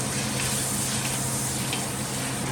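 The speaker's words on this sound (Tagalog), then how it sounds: "Halo-haloin nyo lang hanggang sa maluto yung beef natin." Beef and oyster sauce fry in a hot pan, giving a steady, loud, dense sizzle with faint scraping strokes of stirring running through it and no voices.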